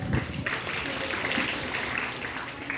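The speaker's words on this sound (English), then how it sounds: "Clap." Classroom audience clapping together, a steady, dense patter of applause filling the room for a few seconds without pause.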